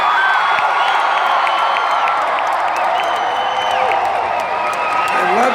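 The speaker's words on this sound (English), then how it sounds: "This is a large, loud, and raucous crowd." A large, loud, raucous crowd at a Bernie Sanders rally in Grand Prairie, Texas, cheers, whoops and applauds without pause, a dense roar with shrill shouts rising over it.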